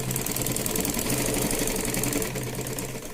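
A sewing machine stitches a blouse lining with a rapid, steady mechanical whir and rhythmic needle clatter, briefly pausing and resuming, close and alone without talk.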